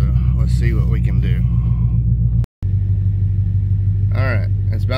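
A 1997 GT car rumbles as it pulls onto a steep vehicle scale, with a low, loud, steady engine drone throughout, broken by one brief cut, and someone talking over it.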